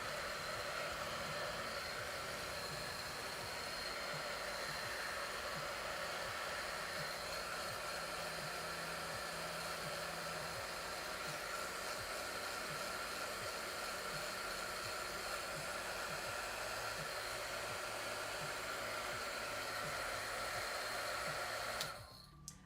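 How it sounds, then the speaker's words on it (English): A craft heat gun blows steadily to dry paint on a Lhasa Apso painting, a loud continuous whirring hiss that runs unbroken and close for over twenty seconds before cutting off at the end. "I'm going to use a craft gun to dry this area"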